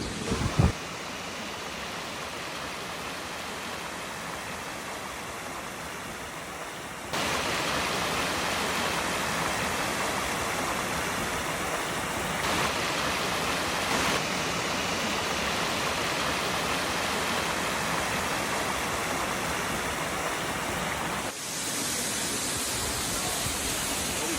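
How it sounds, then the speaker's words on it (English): A steady, loud roar of the Emerald Pools waterfall in Zion National Park, heard from beneath it, a dense unbroken rush that swells slightly partway through. "We are under the waterfall."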